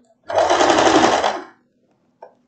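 A sewing machine stitching a floral wrap dress runs in one continuous buzzing burst of just over a second, close and fairly loud, then stops, followed by a single faint click.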